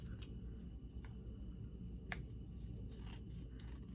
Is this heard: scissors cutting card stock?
yes